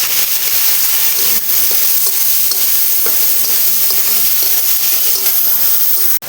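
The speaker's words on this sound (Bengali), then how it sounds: "এখানে পেঁয়াজ, আদা, লঙ্কা আর রসুন কিমাটা দিয়ে দিচ্ছি।" Onion, ginger, chilli and garlic mince frying loudly in a pan, a steady close sizzle with repeated scraping clicks of stirring throughout.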